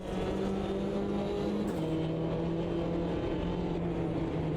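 Race car engines in Automobilista 2 at Cadwell Park, a steady loud droning whine of several close cars running together, pitch shifting slightly as they hold close formation, with no talk.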